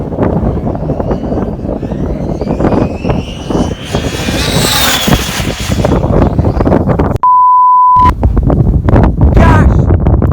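A Traxxas Slash RC car built as a 100 mph project accelerates at full throttle in a top speed run, its high electric whine rising over strong wind buffeting, broken by a short steady beep, with voices faintly underneath.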